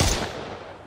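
A short, sharp burst of gunfire from enemies in the survival game Mist Survival hits hard and then quickly trails off into a reverberant tail.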